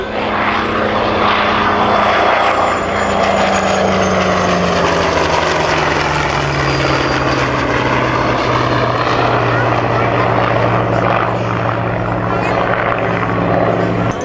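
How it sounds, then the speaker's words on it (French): At an Avignon air show, a Skyraider leads a patrol with a Zéphyr close behind. Their propeller engines make a steady, loud, droning roar that holds throughout, and a commentator speaks over the noise. "Voilà notre patrouille, le Skyraider en tête, c'est le gros avion hélice et le Zéphyr juste derrière."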